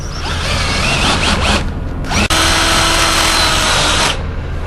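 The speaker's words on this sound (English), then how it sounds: "I'm going to drill that hole 3/8" A power drill bores a 3/8-inch hole through an Airstream trailer's skin. The motor whines loud and close for nearly five seconds, with one brief break partway through.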